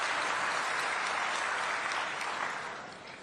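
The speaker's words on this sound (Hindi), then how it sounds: "भाई तोखन साहू भी यहाँ कर लिए भी जोरदार ताली से स्वागत करो" Sustained applause from a crowd welcoming a minister at a PM Kisan Day event in Raipur, steady and dense before tapering off toward the end.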